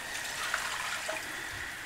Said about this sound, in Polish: jeszcze doleję około pół litra wody